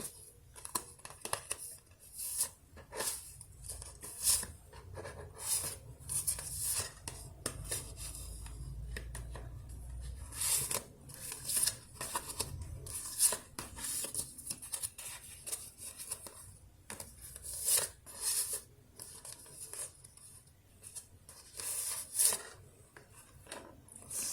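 Tarot cards being handled and shuffled through, giving a steady run of soft rubbing, sliding and flicking sounds, close and fairly quiet, with no voice.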